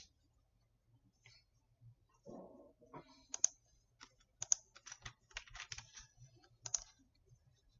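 Quiet, close computer keyboard typing in an office setting: scattered light clicking keystrokes, irregular and a little hesitant, coming in short runs with brief pauses.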